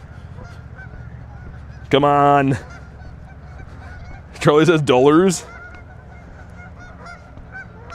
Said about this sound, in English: Speaking of ducks, tons of ducks around here.